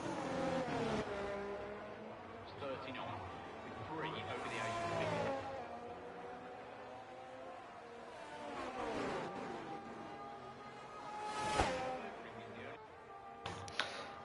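Race car on a qualifying lap at the Mexico round of an ERL Tier 1 series, its engine droning and shifting pitch through gears and corners, with commentary talk running over it.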